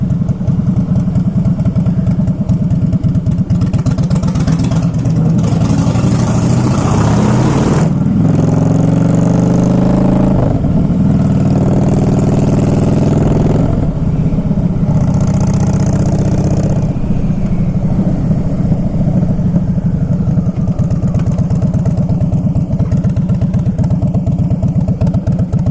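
A 2011 Harley-Davidson Fat Boy Low rumbles loudly while being ridden, its deep engine pulsing steadily with a few surges of revving and throttle changes over wind noise.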